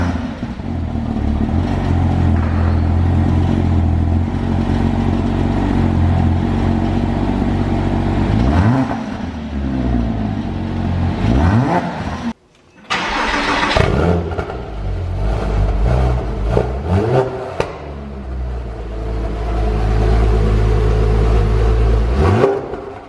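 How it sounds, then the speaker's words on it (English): Car cold starts and revving are heard in turn, first with the OEM exhaust, then a Soul exhaust, then a Fabspeed aftermarket exhaust. Loud close engine roars rise and settle repeatedly, with a brief cut between sections. "a cold start with the OEM exhaust, then a cold start with the Soul exhaust, and now with the Fabspeed exhaust"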